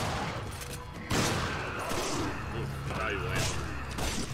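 Gunfire from the Resident Evil 5 video game, a dense continuous barrage of shots mixed with game effects, with a voice talking over it.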